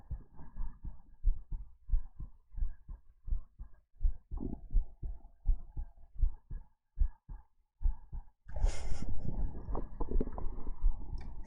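Bass-boosted heartbeats thump in a steady, heavy rhythm, loud and close with booming low end for about eight seconds, then give way to a dense, louder wash of deep rumbling noise.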